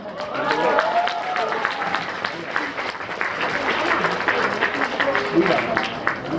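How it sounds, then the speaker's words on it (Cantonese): Wedding guests burst into sustained, dense applause at a reception as the couple is brought forward, a steady crowd clatter of many hands filling the room with voices mixed in throughout. "大家可唔可以 keep 住嚟緊有唔同環節嘅時候都俾多啲掌聲去鼓勵佢哋好唔好啊"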